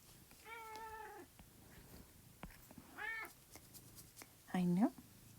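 A house cat meows several times, two drawn-out harmonic meows then a louder, lower final one, close by over a quiet room with faint background sounds and no talking.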